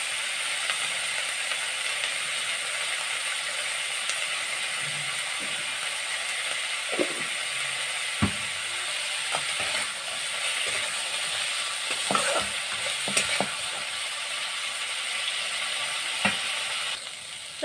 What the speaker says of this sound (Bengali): আর লবণ দিয়া একটু সময় দিন ভাজা করি।